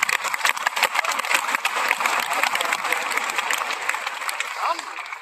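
Loud, dense applause from a large crowd at an anniversary event for a direct-selling network, sustained throughout and tapering slightly at the end, with a voice faintly audible within it.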